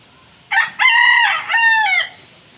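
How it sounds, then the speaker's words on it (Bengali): A rooster crows loudly and close by, its call broken into three bursts over a quiet background. "এখানে একটা দেখো মুরগি আছে, মুরগিটা ডাকছে"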